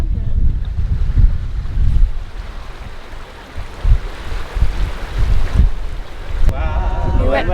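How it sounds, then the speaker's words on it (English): Steady rush of water and wind from a canoe being paddled on a family paddle day, continuous and fairly loud, with a brief burst of voices and singing near the end. "With all this water noise"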